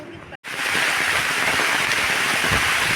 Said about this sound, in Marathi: मित्रांनो वारा आणि पाऊस भरपूर लागतोय